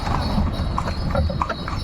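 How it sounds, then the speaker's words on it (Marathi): A horse pulling a tonga carriage in Pandharpur, Maharashtra, clip-clops along a street in steady, close hoofbeats, with faint traffic noise in the background. "महाराष्ट्रातल्या मोजक्या शहरांमध्ये आता हे टांगे पाहायला मिळतात"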